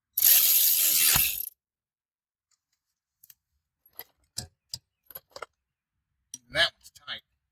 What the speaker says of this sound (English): And when you tighten this 14 millimeter bolt